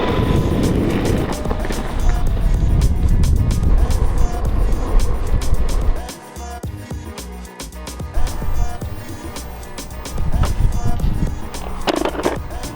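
Nuff electric skateboard pulling away and speeding up, with a steady rolling wheel roar and faint motor whine that dips briefly midway before picking up again, close and fairly loud throughout.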